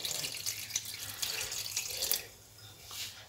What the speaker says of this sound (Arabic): دابا البنات غادي نزيد ليها الماء